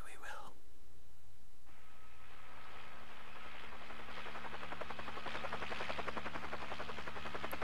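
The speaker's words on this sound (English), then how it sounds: "That would be the ultimate ending with Brad crashing the helicopter into the helipad." A helicopter's rotor thrum and whining engine in the video game Resident Evil Director's Cut build steadily, a continuous mechanical drone with rhythmic chopping.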